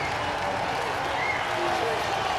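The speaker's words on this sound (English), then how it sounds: "I'm hearing boos. I'm hearing claps." Crowd in an EA FC football video game match, a dense, steady wash of clapping and crowd noise holding at moderate level throughout.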